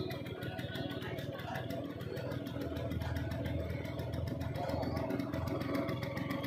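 A Vespa LML geared scooter idling up close, its small engine giving a steady, continuous rattling putter throughout, while someone talks over it.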